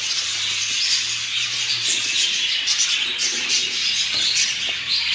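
A baby budgerigar being hand-fed warm formula makes a continuous, insistent high-pitched chirping and begging chatter, close and fairly loud throughout.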